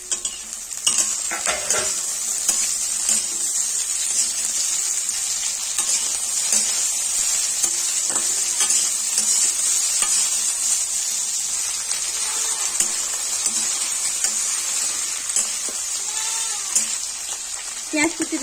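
Sliced ivy gourd and potatoes fry in a pan with a bright, continuous sizzle and hiss, broken by close stirring scrapes and occasional utensil taps, while a voice talks intermittently.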